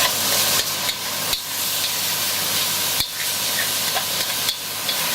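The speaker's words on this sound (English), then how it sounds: "You give that a nice stir also." Beef strips being stirred in a hot stir-fry pan for hoisin beef, with a steady loud sizzle and hiss broken by several sharp utensil scrapes and knocks against the pan.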